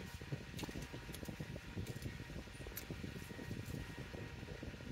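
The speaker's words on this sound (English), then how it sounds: "Of course, I got my fans on today." Electric fans run steadily in a room, producing a constant broadband whir with no talk.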